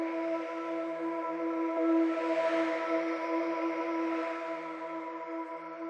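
A soft sustained synth pad holds a steady chord, its brightness and volume swelling in and out twice, quiet and smooth with no voices.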